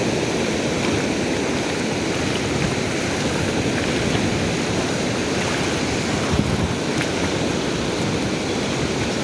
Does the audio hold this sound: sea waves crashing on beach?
yes